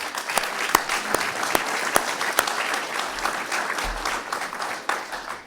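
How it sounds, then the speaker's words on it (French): Sustained audience applause following a speech, dense clapping with a few sharp, distinct claps standing out near the front. "je pense qu'on peut les applaudir"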